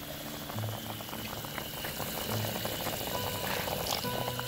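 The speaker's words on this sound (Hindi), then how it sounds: "पानी को उबाली आ गई है" Water boils in a pot before rice is added for zeera pulao, giving a soft, continuous bubbling and simmering with small irregular pops at low volume.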